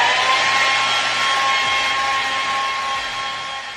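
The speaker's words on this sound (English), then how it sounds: "To speed up the process, I'm gonna use this handy dandy blow dryer" A handheld blow dryer blows steadily on a drying black peel-off face mask, a loud continuous whooshing hiss with a faint motor whine that holds for several seconds before easing slightly.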